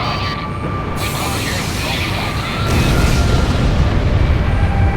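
A Soros superweapon launches in the Ace Combat 6 video game, a loud deep rumbling boom that swells and grows stronger partway through, with game voices and a high-pitched tone layered over it.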